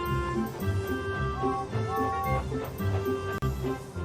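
Opening theme music of Thomas & Friends: Calling All Engines, a bright, bouncy orchestral tune with sustained melody notes over a steady rhythmic accompaniment, loud and continuous with no talk.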